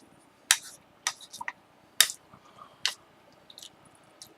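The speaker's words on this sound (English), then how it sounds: "I thought I'd have a little snack." A snack being chewed and bitten in short, separate crunchy bursts with pauses between them, close and fairly quiet, with no talking.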